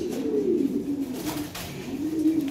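Lahore siraji pigeon cooing close by, a series of low, throaty rolling coos with a soft pulsing rhythm and faint background noise.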